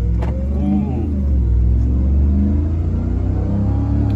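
A 2021 Ram 1500 TRX pickup truck drives in auto mode with a deep, steady engine rumble and road noise filling the cabin, with no talk.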